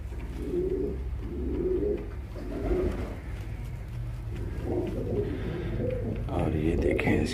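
Low flyer pigeons (kabootar) coo close by in a steady series of soft, throaty, rolling calls that repeat at a relaxed rhythm, with a faint murmur of background noise throughout.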